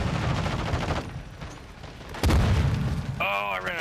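Shotgun blasts in a Call of Duty: Modern Warfare II match on the Shipment map, a heavy boom landing mid-clip amid faint game gunfire, followed by a rising in-game tone.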